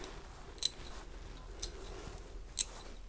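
Garden snips cutting thorns off April garden flower stems during flower arranging: three sharp, close clicks of the blades spaced about a second apart, over a quiet background.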